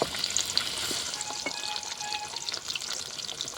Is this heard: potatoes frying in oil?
yes